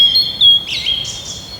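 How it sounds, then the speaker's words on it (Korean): A small bird sings a few bright, close chirps and short trilling notes over a quiet background. "빵을 다 쪼아 먹은 새는 사랑이 가득한 정겨운 목소리로 노래를 부르기 시작했다."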